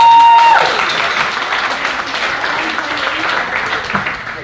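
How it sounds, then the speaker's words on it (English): An audience at a community meeting with a state senator breaks into sustained applause, loud at first and then settling into steady, even clapping for a few seconds. "Give them another round of applause."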